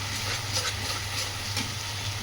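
Masala paste of ginger, cumin, garlic and chilli frying in a pan after a splash of spice-rinsing water is added: a steady, even sizzle and hiss throughout, with no talking.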